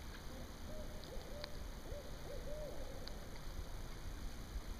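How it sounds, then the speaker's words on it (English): Low hooting calls from owls drift in at a distance near Settles Ford, California, repeating in a loose series over a steady background hiss and a few faint clicks. "Listen to the owls a bit."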